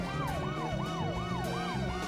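Police car siren in a video game about police chases, wailing in steady repeated rising-falling sweeps over a low rumbling engine and background game noise, loud and close throughout.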